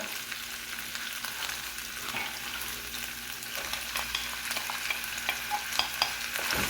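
Onions frying and being stirred in a pan for an Ethiopian alicha tibs dish, a steady soft sizzle with scattered scraping clicks from the stirring, close and continuous, with no voices.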